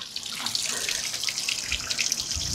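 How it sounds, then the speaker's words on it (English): Water sprays from the telltale outlet of a Suzuki outboard engine, a continuous hissing, splashing stream heard close up for a couple of seconds with no talking. "This is where the tattletale water comes out and it sprays out right here."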